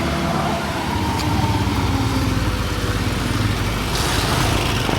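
A motorcycle idles at a Shell gas station in Quezon Province: a low, steady engine rumble runs throughout, with faint background noise and occasional brief clicks.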